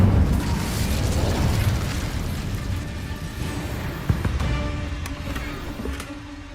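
Fiery spell blasts and combat booms from the Incendio spell in Hogwarts Legacy, loud bursts over a dense rumbling battle bed, with one sharp impact partway through.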